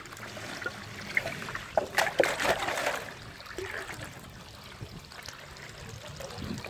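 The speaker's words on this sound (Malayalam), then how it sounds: "കലക്കി ഒഴിക്കുകയാണ്." Salt water, rock salt stirred in, poured into a home aquarium: a close, soft trickling splash that swells briefly around the middle, then settles into a faint steady dribble.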